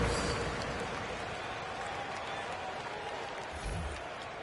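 In an NBA 2K22 basketball game, a virtual arena crowd gives a faint, steady wash of applause and cheering for the dance squad's performance.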